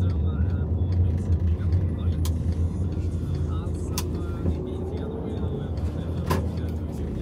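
A blue car drives close by with a continuous low engine and road rumble, while people talk over it.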